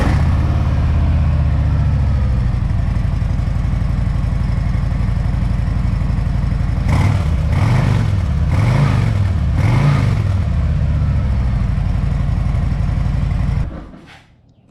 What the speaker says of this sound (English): let you hear this bike with the stock mufflers